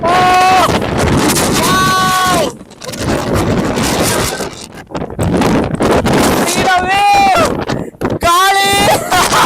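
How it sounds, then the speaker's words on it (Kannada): Gusting wind buffets the microphone on a hilltop trek to the Bettadapura Sidilu Mallikarjuna temple in Karnataka, a loud, rough roar through most of the clip, while people exclaim over it at several points. "ಗಾಳಿ."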